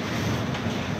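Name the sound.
waves crashing over sailboat in wind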